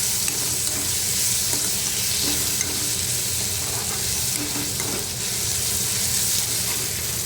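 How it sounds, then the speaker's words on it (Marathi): Potatoes sautéing with karandi shrimp in a pan for a spicy curry, making a continuous close sizzle with occasional soft stirring scrapes. No one speaks. "आता बटाटे घालू याच्यामध्ये हे सगळं व्यवस्थित परतायचं"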